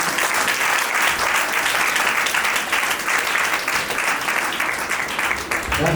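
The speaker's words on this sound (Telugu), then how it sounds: "అందరూ చప్పట్లు కొట్టండి" A church congregation at a Sunday worship service breaks into loud, sustained clapping that fills the room evenly for the whole stretch, with faint voices mixed underneath.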